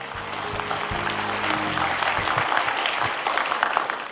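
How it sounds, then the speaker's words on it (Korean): Audience applause swells at a political campaign committee launch in Gwangju, with dense clapping from a large crowd over a fading musical chord. "박수 부탁드립니다."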